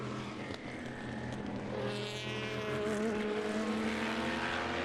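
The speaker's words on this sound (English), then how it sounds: "The Whelen and the Mustang sampling cars in close proximity to each other as they climb the hill." Race cars, including the Whelen and Mustang Sampling prototypes, climb a hill close together during 2018 America's Tire 250 qualifying, their engines rising in a loud, steady blended roar with climbing pitch.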